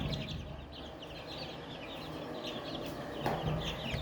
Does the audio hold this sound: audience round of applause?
no